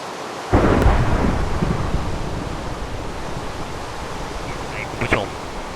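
A thunderstorm in the Minecraft video game: a loud thunderclap bursts early, then steady heavy rain hisses on, with a brief sharp crackle near the end.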